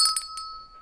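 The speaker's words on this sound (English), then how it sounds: "I don't know why she's looking for the bell." A small bell rung on a morning TV show studio set gives a few quick bright clinking strikes, its ringing tone lingering and fading away, with no talk over it.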